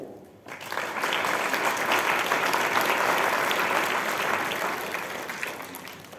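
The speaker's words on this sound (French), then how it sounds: "Tout le monde se réjouit et applaudit ce spectacle fabuleux." A theatre audience at a Nutcracker performance bursts into sustained applause, a dense, even wash of many hands clapping that swells quickly and holds steady for several seconds before easing slightly.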